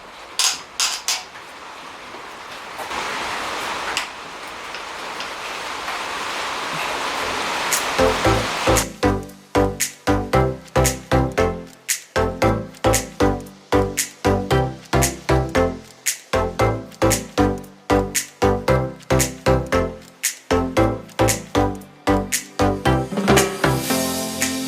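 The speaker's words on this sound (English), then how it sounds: "So I just undid the head studs" Head studs being undone on a turbocharged BMW E36 engine, close up: after a stretch of broadband noise, a long run of sharp, regular metallic clacks and ratchet-like clicks repeats steadily with no talking.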